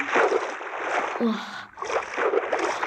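Water splashes loudly and close as someone dives in, two bursts of splashing separated by a brief lull, with a voice speaking briefly between them.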